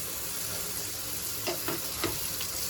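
Browned onions fry in fat in a pan with a steady, moderate sizzle, broken by a few sharp crackles and spatters.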